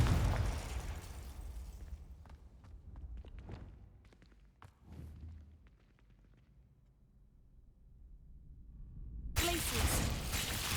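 Confringo explosion spell cast in the game Hogwarts Legacy, a burst of noise followed by a quieter stretch of crackles and footsteps, then a loud blast near the end.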